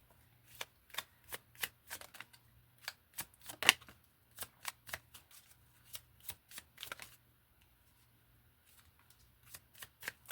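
Tarot-style animal oracle cards shuffled by hand, a quiet run of soft, rapid riffling taps in uneven bursts, close and alone with no talk.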